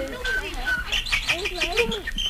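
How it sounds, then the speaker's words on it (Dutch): A Chinese nightingale sings close by, a run of varied chirps and warbling notes, with a low voice murmuring underneath. "Laten we liever eens luisteren naar de Chinese nachtegaal"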